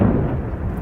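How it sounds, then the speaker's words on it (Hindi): Deep, rumbling explosion booms in Syria, with heavy low-end energy that rolls on steadily through the short clip, like a distant explosion. "एक एक कर आप धमाके की आवाज सुनिए"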